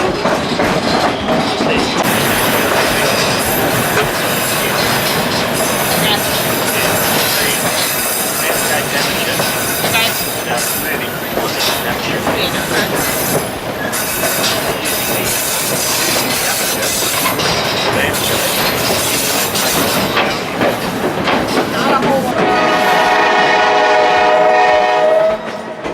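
Loud, continuous rumble and roar of a train running on rails in Alaska, with clattering wheels and a drawn-out squeal or horn-like tone near the end.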